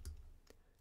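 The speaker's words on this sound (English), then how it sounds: "if I go away from the keyboard, I click the audio off." Faint mouse clicks while audio is toggled off in Wirecast live-streaming software on a computer: two or three soft, sharp ticks spaced apart against a quiet background hum.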